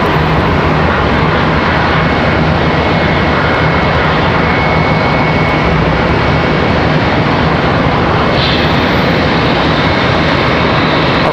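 Loud, steady jet aircraft roar from a departure at Charlotte Douglas International Airport, a broad sustained rumble filling the whole clip with no voices.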